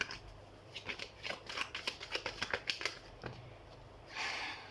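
Tarot cards shuffled by hand at close range, a quick run of soft riffling flicks followed by a brief rustle as cards are drawn, faint and quiet with no talking.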